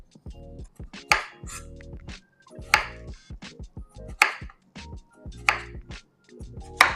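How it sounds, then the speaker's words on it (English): Sweet potato is sliced thinly with a knife on a cutting board, giving a steady series of about six crisp chops at regular intervals, each with a sharp click, close and clear with faint music underneath. "we're gonna start by cutting the sweet potato"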